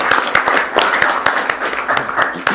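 Applause at an annuity training workshop, a crowd clapping loudly and close with a quick uneven patter throughout.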